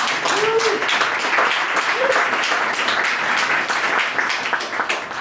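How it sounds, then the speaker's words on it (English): A startup-event audience claps in a dense, steady round of applause lasting several seconds, with a couple of brief voices faintly audible beneath the clapping. "So, round of applause."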